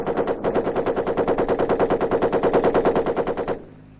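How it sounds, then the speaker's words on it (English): A machine gun fires one sustained burst on a Ranger training range, loud and close. The rapid, evenly spaced shots run for about three and a half seconds and then stop abruptly, leaving a fading echo. "the occasional chatter of machine guns"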